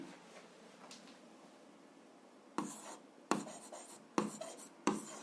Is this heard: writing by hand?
yes